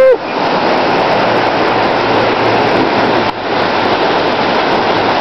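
A flooded river rushes beneath a bridge in a loud, steady roar of churning water, with a faint voice briefly heard at the start.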